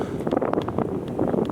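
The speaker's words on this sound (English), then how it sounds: "It's so windy." Gusty wind roars against the microphone during a stormy mountain hike in Hemavan, Sweden, a steady, close, rumbling buffeting with fluttering bursts throughout.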